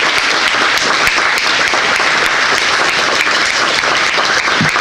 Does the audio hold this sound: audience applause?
yes